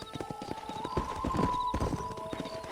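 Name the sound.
horse hooves clip-clopping in Red Dead video game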